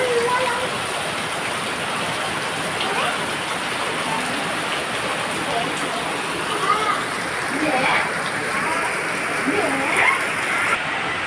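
Heavy rain falls over the city of Guwahati during flooding, a dense continuous hiss of drops on surfaces that stays steady and loud throughout.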